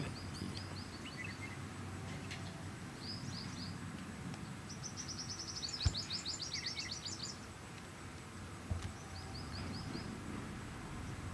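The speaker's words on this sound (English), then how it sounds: "bird." Small birds chirp and twitter in short, high-pitched phrases over a steady outdoor background hiss at a golf course during a warm midday championship round, fairly faint and intermittent.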